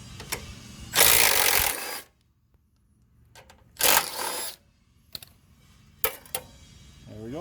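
A 9/16 socket on a ratcheting wrench working bolts off a Craftsman DLT3000 mower, with close bursts of quick ratchet clicking separated by quiet pauses and a few single clicks.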